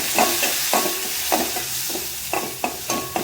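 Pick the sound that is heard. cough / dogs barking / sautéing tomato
sautéing tomato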